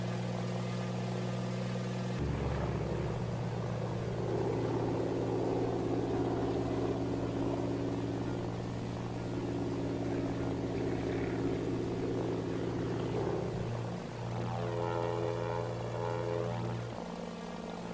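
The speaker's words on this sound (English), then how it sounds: "It's a sweet little plane." The droning hum of a Beechcraft D18 Volpar propeller plane in flight around Guam fills the recording steadily, with tonal engine buzz and no talking.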